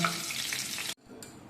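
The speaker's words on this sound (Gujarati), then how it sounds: "આપણે મીઠા લીમડાના પાનને તળી અને પછી ઉપયોગ કરવાનો" Curry leaves fry in hot oil for a crispy fasting chivda, giving a loud bubbling hiss that cuts off abruptly, then a quieter sizzle resumes.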